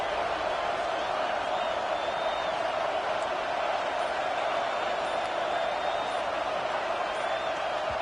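Steady roar of a stadium crowd in the College Football 26 video game during an LSU versus Tennessee matchup, a dense continuous wash of noise holding level throughout, loud, with commentary talk blended underneath.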